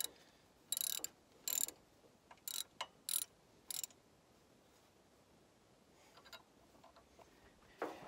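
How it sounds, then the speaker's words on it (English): Half-inch wrench tightening nuts on a remote hydraulic kit for a Mahindra 1626 tractor, a series of sharp metallic ratcheting clicks in short bursts, then quieter fiddling and a final click, fairly close with no talk. "go ahead and tighten those up with a 1/2 inch wrench and backer"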